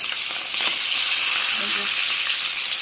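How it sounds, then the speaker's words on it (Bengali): Fish frying in a wok, a loud, dense, even sizzle that holds steady throughout at close range, with no speech. "এখানে আগে মাছগুলো ভেজে নিচ্ছি।"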